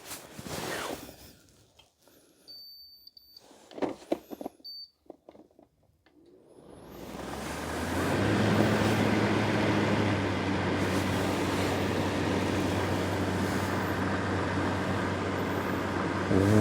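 After some quiet handling clicks and rustles, a household circulator fan powered by a portable power station starts up and settles into a steady, loud whooshing hum that continues to the end.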